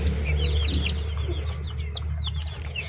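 Chickens on a Filipino farm cluck and chirp in quick, scattered bursts close by, with a low steady hum running underneath.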